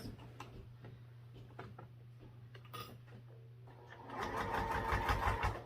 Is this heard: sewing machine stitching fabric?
yes